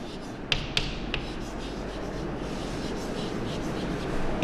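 Pen or pencil writing on paper during a class 2 maths lesson, a soft continuous scratching with a few light taps near the start, steady and close, with no speech over it.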